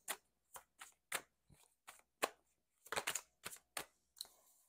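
Tarot cards being shuffled by hand, about a dozen crisp riffling bursts in an uneven rhythm, close and fairly quiet, with no talking.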